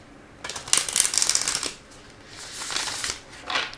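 Tarot cards are shuffled by hand in two bursts of crisp riffling and flicking, close and fairly loud, with a brief pause between them.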